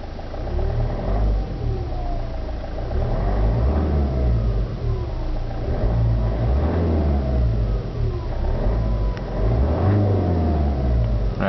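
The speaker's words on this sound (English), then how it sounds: "So let's see how the Urban Cruiser sounds." A 2011 Toyota Urban Cruiser engine revs up and down in several rising and falling sweeps, a close, steady mid-pitched rumble running unbroken for about twelve seconds with no talking.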